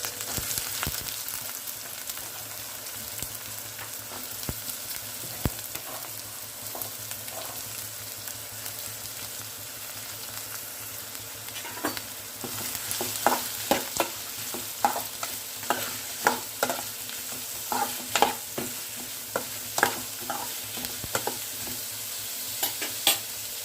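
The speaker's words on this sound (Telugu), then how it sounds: "నూనె అయితే వేడెక్కింది ఉల్లిపాయ ముక్కలు పచ్చిమిరకాయ ముక్కలు వేసుకొని వేసుకుందాం" Chopped onion and green chili frying in hot oil in a pan for a drumstick curry, a steady close sizzle with scattered sharp crackles and stirring clicks that grow busier in the second half, no talk.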